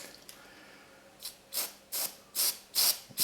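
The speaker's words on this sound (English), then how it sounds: "We'll just spray that on." Dark X cleaner sprayed from a trigger bottle onto a slouch hat: five short hissing bursts, close and fairly loud, coming at a regular pace after a quiet start.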